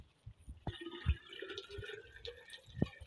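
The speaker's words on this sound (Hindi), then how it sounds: "अब यहाँ पर पानी डालेंगे" Water is poured out at a house, heard as a few close, irregular splashes and drips in a fairly quiet space.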